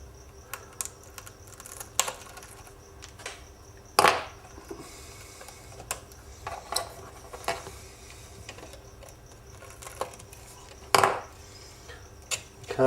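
Wires on a motorcycle wiring loom snipped off one at a time, giving sparse sharp clicks and snaps scattered across the stretch, a few louder cuts standing out against quiet background, with no talking.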